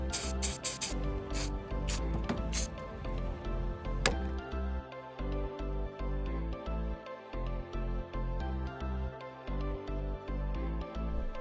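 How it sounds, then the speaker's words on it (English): Battery terminal protector is sprayed onto car battery terminals in several short hissing bursts, followed by a quieter stretch under steady background music. "Spray both terminals."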